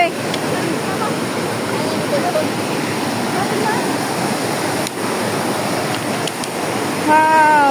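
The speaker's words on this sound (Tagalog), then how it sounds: "Ari kami sa Tinago Falls." Tinago Falls waterfall pours in a steady, loud broadband roar of rushing water that stays constant throughout, with faint voices mixed in underneath.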